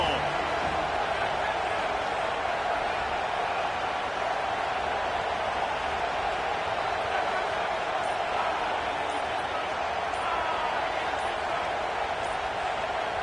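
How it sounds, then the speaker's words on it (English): A stadium crowd at a football game roars in a dense, unbroken wall of noise that holds loud and steady throughout, with no single voice standing out. "This crowd ready to make its presence known."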